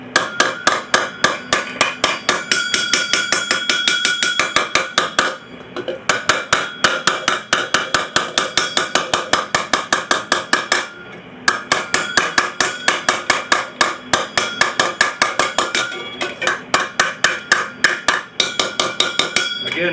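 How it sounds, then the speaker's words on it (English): Rapid, evenly spaced light hammer blows planish a metal armour piece against a stump, ringing on steadily with two brief pauses. "Again, very light hammer blows."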